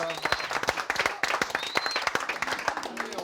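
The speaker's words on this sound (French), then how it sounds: "Hop, moi j'applaudis." Hands clapping in a lively burst of applause, with several people clapping at once at close range alongside a cooking demonstration of Basque food; sharp, dense claps continue throughout.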